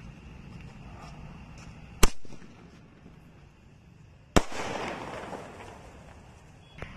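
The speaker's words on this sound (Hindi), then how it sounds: "अब इस गोल्ड बॉम वाले स्काई शॉट को जला के देखते हैं" A Gold Bomb sky shot firecracker goes off outdoors: a faint background hiss, then two sharp, loud cracks a couple of seconds apart, the second trailing into a brief crackling burst.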